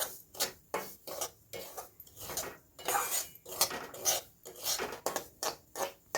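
A utensil scrapes and clanks against a pan again and again in a quick, regular rhythm as semolina is stirred while frying in ghee, the strokes sounding close and clear with no voices.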